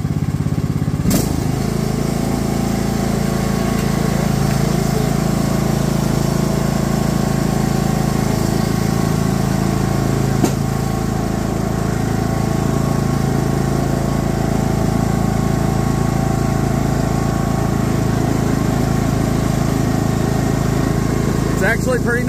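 A Cub Cadet XT1 XT42B riding lawn mower engine runs steadily nearby, a loud continuous low drone with a faint mechanical whine, and a voice speaks over it.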